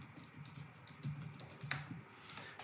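Typing on a computer keyboard, a run of soft, quick key clicks at an irregular pace, faint and close with a low background hum and no talking.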